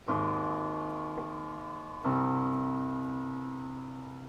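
Two sustained piano chords, the second struck about two seconds after the first, each ringing out and slowly fading with no talking.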